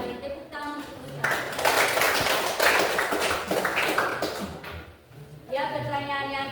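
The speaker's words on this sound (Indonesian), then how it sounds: "Tepuk tangan untuk kita." A classroom breaks into applause, several seconds of dense, even clapping from many hands, framed by a person speaking before and after.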